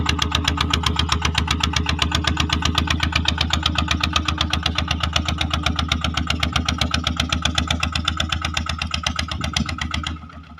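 A Yanmar TF120 DI single-cylinder tractor engine chugs at a fast, even idle with a loud rhythmic diesel thump that holds steady and then cuts off near the end.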